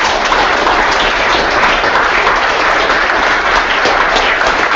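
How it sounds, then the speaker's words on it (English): Dense, steady applause from a meetup audience fills the room for the evening's speakers, loud and continuous without a break. "How about one more round of applause for all the speakers tonight?"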